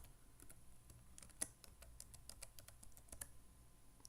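Password being typed on a computer keyboard during an Ubuntu application install: a steady run of quiet, close plastic key clicks with an uneven rhythm and one slightly sharper keystroke, no voices.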